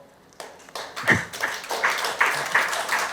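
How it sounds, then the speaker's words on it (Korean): A modest forum audience gives a scattered round of applause, with individual claps starting irregularly and building into a light, close patter. "좀 박수 한 번 더 쳐주십시오"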